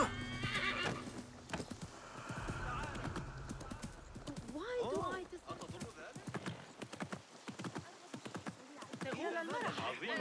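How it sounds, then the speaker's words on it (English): A horse whinnies several times among clopping hooves in the video game Assassin's Creed Mirage, with game effects and background music layered around it. "didn't expect horse to jump on the roof."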